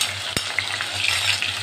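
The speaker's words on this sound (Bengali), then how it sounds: "ভালো করে ভাজা হয়ে যাওয়া পর্যন্ত আমি একটু এটাকে নেড়ে নেব" A masala of ginger, tomato and green chilli sizzles in hot oil while being stirred, a steady frying hiss broken by a sharp clink of the spoon against the pan and small scraping strokes.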